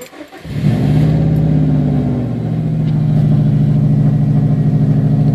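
A 2007 Subaru STI with a manual gearbox starting on the key: a short cranking whir catches into a loud, close engine that settles into a steady, rumbling idle.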